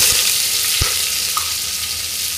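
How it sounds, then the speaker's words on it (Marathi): Chopped onion with curry leaves frying in a pan for veg pulao, a loud, dense, steady sizzle with a couple of soft utensil bumps and no voices. "व्यवस्थित परतून घेऊया। कांदा चांगला सोनेरी रंगाचा होईपर्यंत भाजून घ्यायचा"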